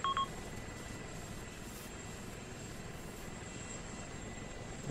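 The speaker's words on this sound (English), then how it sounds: "The helicopter engine's still on," A helicopter engine left running in a military video game set in Takistan, a steady droning rumble with a whining tone, constant and fairly faint, preceded by a short electronic beep.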